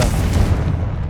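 A Confringo fire spell from Hogwarts Legacy bursts in a loud, close, deep boom that rolls off quickly, heard alone without talk.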